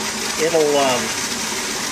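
A water valve kicks on to refill an irrigation cistern, a brief gushing rush of flowing water with a rising tonal whine, heard close under a voice.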